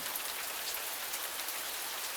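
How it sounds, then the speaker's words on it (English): A sudden downpour in the Cupid Parasite video game: a steady, dense hiss of heavy rain falling continuously at an even level, with no voices. "the sound of a sudden downpour"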